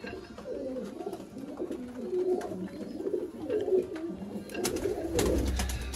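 Pure teddy breeder pigeons cooing in soft, repeated low throaty phrases, close by and steady throughout, with faint background noise and no talk.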